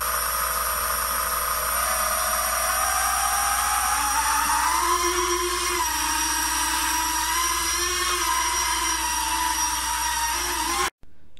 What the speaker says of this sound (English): This is actually one of the the louder drones I have as well. And we're gonna take it outside and see how it flies.